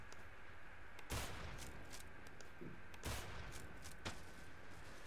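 Gunfire in the online shooter Zula, several sharp shots cracking out at intervals over a steady background of game noise, with no talking.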